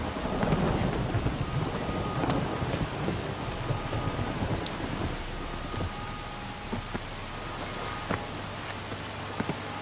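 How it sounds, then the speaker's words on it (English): Rain pours steadily in a video game storm, with crackling thunder rolling loudly at the start and sharp drops and cracks scattered throughout, no voices. "let it rain."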